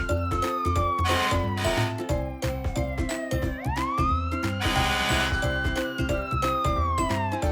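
A fire truck siren wails in rising and falling sweeps over a pulsing, layered tone, loud and continuous with no talking.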